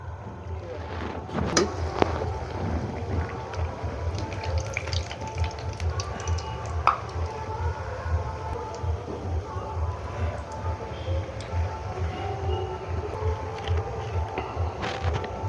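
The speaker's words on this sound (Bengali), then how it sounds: "এই লুচি খুব তাড়াতাড়ি ভাজা হয়ে যায়।" Luchi, Bengali fried bread made with palm fruit kernel, fries in hot oil with a continuous bubbling sizzle, broken by occasional clinks and scrapes of the utensil close by.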